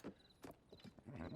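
Hooves of a spotted horse clop in a few uneven steps in the video game Zelda: Tears of the Kingdom, faint and close, with no speech.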